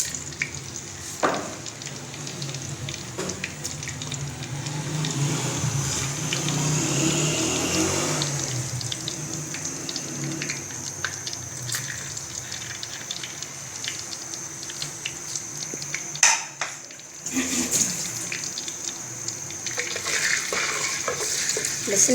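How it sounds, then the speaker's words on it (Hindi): Garlic and onion frying in oil on a stove, a steady broadband sizzle with occasional stirring scrapes and clatter, moderately loud and continuous with no talking. "लहसुन प्याज को हम अच्छा सा फ्राई कर लेंगे पहले।"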